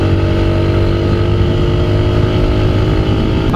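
A TVS Apache RTR 160 4V BS6 motorcycle engine drones steadily and loudly under throttle on a road ride, with close, sustained engine noise and no talking.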